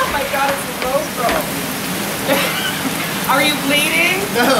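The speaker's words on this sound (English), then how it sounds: "It's just raining and raining." Heavy rain pours steadily during a big July storm in Provincetown, a dense close wash of water noise with people's voices breaking in now and then.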